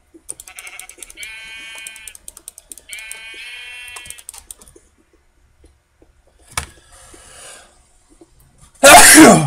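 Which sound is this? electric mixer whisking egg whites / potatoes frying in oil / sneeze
sneeze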